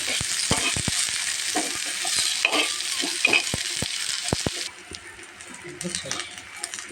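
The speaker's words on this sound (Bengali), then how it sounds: "রসুনটা আর কাঁচামরিচটা ভাজা হয়ে গেছে" Garlic and green chilies fry in a pan with a bright, steady sizzle and quick, repeated clacks of a spatula stirring them; toward the end the hiss fades to a quieter background, and a voice is faintly heard.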